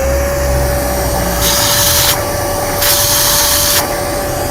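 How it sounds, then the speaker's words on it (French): Karcher SE3-18 cordless spray extractor running its suction, a steady loud motor whine with a constant tone, with two bursts of broadband hiss as air and spray are drawn in. "ça fait le bruit d'un aspirateur"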